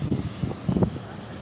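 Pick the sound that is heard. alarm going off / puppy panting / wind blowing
wind blowing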